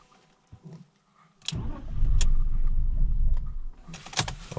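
A BMW 530i cranks with a sharp click, catches and revs loudly for a couple of seconds, then the engine note sags and dies away as it stalls, heard close up.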